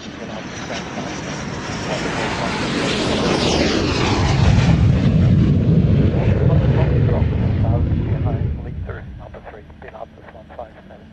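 Black Eagles formation aircraft arrive to land at the Royal International Air Tattoo 2022, a broad jet roar swelling to a loud peak mid-pass before fading, with radio-style talk over it toward the end.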